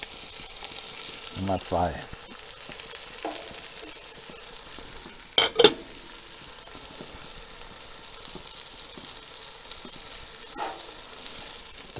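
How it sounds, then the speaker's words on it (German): Bacon and kale sizzle gently in a Dutch oven while being stirred, with a soft frying hiss, a few clattering scrapes near the middle and a voice speaking briefly over it. "Das lassen wir nochmal wieder so ein bisschen hier andünsten."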